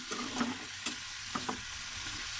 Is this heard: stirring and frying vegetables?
yes